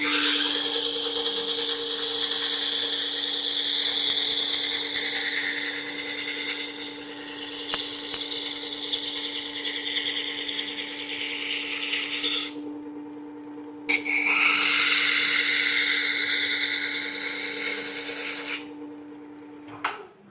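Chisel being sharpened on a powered sharpening system, a steady motor hum under a bright, hissing abrasive grind that runs for about twelve seconds, breaks off briefly, then resumes before a second short gap, close and without talking.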